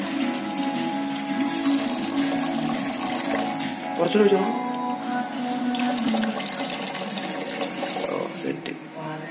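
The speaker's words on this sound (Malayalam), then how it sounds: "ഈ ഒരു ലെവലിലാണ് നമ്മളിപ്പോ വെള്ളം ഒഴിച്ചു കൊടുത്തേക്കുന്നത്" Water is poured into a pot of rice for a bachelor-style chicken biryani, a steady close rushing splash that carries on throughout under a person talking.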